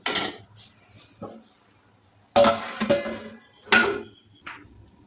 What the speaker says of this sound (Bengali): এখন আমি ঢেকে দেব লাউটা সিদ্ধ হওয়ার জন্য